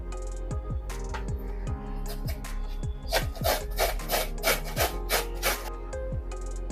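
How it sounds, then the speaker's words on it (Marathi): Raw green mango being grated by hand, a close, loud, rhythmic rasping of repeated strokes, slower at first and then a quicker run of even scrapes, with no voices. "याच पद्धतीने आता आपण संपूर्ण कैरी किसून घेणार आहोत।"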